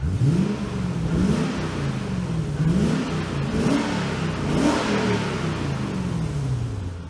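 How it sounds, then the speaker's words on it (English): A Lexus GS430 engine revs up and down several times in rising and falling sweeps, with a raspy, leaky exhaust note from blowing front pipes close by. "Yeah, you can really hear them front pipes blowing,"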